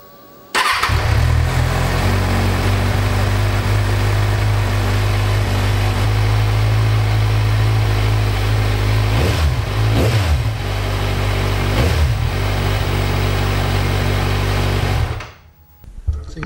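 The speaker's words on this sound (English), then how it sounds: "so we'll go ahead and run it a little bit" A Kawasaki Ninja 1000 motorcycle, freshly given an oil and filter change, starts and runs at a steady close idle for about fifteen seconds with a couple of brief blips, then shuts off.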